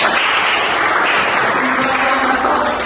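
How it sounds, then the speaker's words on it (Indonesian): A crowd clapping steadily for a presenting group, a dense wash of handclaps filling the room for a few seconds with no break. "Tepuk tangan untuk kelompok ini."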